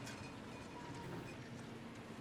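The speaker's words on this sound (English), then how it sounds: "Oh look, the train arrived." A train pulls into the station in the video game The Thaumaturge, set around Warsaw, producing a steady, dense rolling rumble with a low mechanical hum and faint rail clatter throughout, with no voices.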